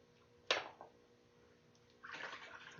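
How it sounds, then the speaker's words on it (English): Water splashes briefly as rifle kit parts get a quick rinse, a short sharp burst followed by a fainter trickle, then a steadier run of flowing water returns near the end. "Quick rinse."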